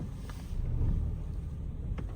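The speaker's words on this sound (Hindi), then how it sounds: "और अब गाड़ी स्टार्ट करी है" A car engine idles steadily just after being started, a low continuous rumble close by with no talk over it.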